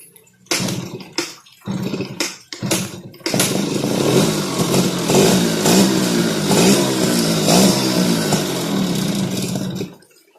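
Motorcycle engine fitted with a Mikuni carburetor blips and sputters in a few short bursts, then settles into a steady, loud, slightly uneven idle that runs close up for several seconds before cutting off.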